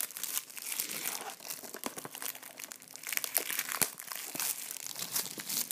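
Plastic wrapping crinkles and tears close by as it is pulled off a PS3 game box, in a steady stream of crackles and rips, with no talking.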